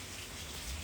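Steady rain falls outside, a soft, even hiss of drops on surfaces with no breaks, fairly quiet and close, with no voices over it.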